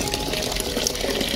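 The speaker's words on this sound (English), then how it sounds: "we have a crack right about there, and all the water is pissing out" Water sprays and gushes from a crack in a household water pipe, a steady close rushing hiss with no voices.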